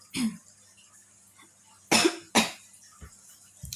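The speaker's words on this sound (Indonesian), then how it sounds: "Tuh kan batuk." A person coughs after eating cake: a sharp close cough, then two loud harsh coughs in quick succession, followed by a couple of smaller throat noises, with quiet pauses between.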